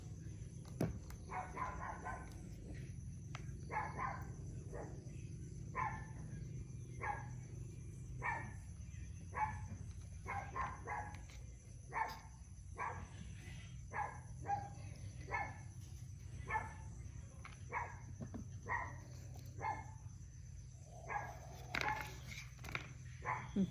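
A dog barks repeatedly at cows grazing in front of a house, its short barks spaced irregularly across the stretch, faint and somewhat distant over a low rural background rumble.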